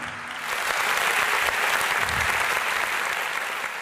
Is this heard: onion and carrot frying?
no